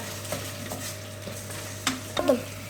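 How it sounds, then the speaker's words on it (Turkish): Onions sizzle and crackle in a hot pan while being sautéed for a meat, chickpea and dried okra stew, with a few louder stirring scrapes near the end. "Evet arkadaşlar soğanlarımız kavruluyor."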